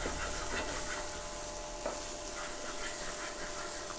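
Paneer sautéing in a little oil in a home-kitchen pan, a steady soft sizzle with occasional stirring scrapes, close and fairly quiet, no talking.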